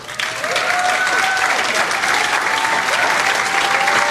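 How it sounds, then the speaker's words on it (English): Dense, sustained applause from a large seminar audience in a social media marketing training session, steady and loud throughout after a quick start, with a few whoops rising above the clapping. "give yourself a round of applause"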